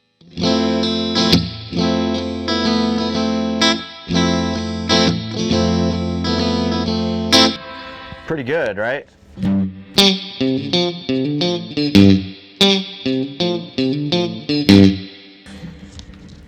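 A semi-hollow PRS-style electric guitar on middle and bridge pickups, with a chorus-like effect, plays sustained chords, then a run of brighter picked notes and arpeggios, loud and up close.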